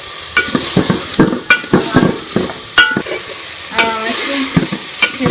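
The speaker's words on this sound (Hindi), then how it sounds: "शिमला मिर्च और बंद गोभी को भी 1 मिनट के लिए इसके अंदर फ्राई कर लेंगे।" Cabbage and capsicum sizzling in masala in a pan, a constant frying hiss broken by repeated scraping, clinking stirs of a spoon, close and loud, no talk.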